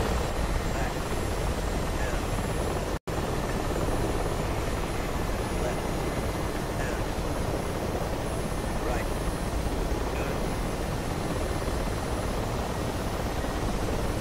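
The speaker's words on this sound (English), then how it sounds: "Whose rotor just left the helicopter?" Steady, dense video-game helicopter rotor drone from Conker fills the whole stretch, broadband and unbroken apart from one split-second dropout near the start.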